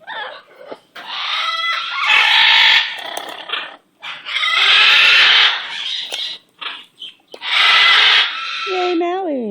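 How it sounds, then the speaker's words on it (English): A pet bird vocalizing close up in several loud bursts of harsh, warbling calls, mixed with a person speaking affectionately nearby. "Little Maui bird"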